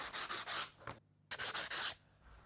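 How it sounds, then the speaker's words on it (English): Light hand sanding along the wooden edges of a door border, heard as close, loud rhythmic rubbing strokes in two bursts of about four strokes each, separated by a short quiet gap. "Before I do that, I'm just going to give the edges a light sand."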